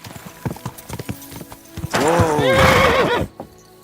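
A horse in the medieval game Kingdom Come Deliverance 2 trots with close hoof clops, then lets out a loud, drawn-out neigh lasting over a second before the hoofbeats fade.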